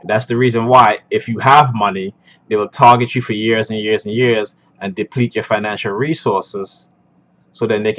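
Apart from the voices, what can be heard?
None of the usual background noises is heard.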